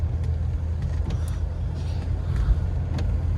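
A classic car running with its idle set far too high as it rolls along, a steady low engine drone with faint creaks and rattles from the body, heard from inside, no talk.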